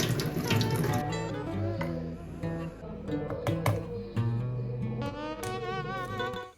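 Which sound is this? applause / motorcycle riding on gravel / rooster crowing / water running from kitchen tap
water running from kitchen tap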